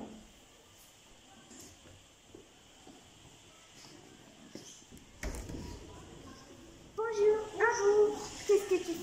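A small dog whimpers and yips in short, high, rising cries near the end, after a stretch of quiet indoor noise and a few soft knocks.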